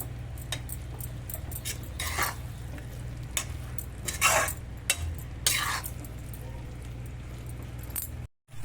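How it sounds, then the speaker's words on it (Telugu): A spoon scrapes and stirs broccoli curry with chili powder in a pan, a series of short clinking, scraping strokes over a low steady hum, with a faint voice briefly present. "ఒకసారి కలపాలి బాగా కారం వేసినాం కదా బాగా కలపాలి"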